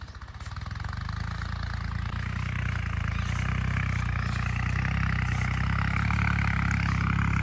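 A tractor drawing a chisel plough through a paddy field after the rice harvest: a loud, steady, close diesel engine drone with a rattling clatter, rising slightly at the start and then holding constant throughout.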